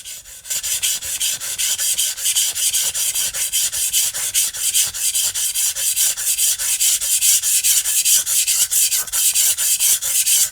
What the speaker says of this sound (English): Let the stone do the grinding, not a bunch of force.